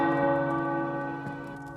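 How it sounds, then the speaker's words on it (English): Tower bells in Marvel's Midnight Suns peal with rich, sustained ringing tones that layer into a steady wash, with a fresh strike landing near the end, loud and alone with no talk. "The tower bells are ringing."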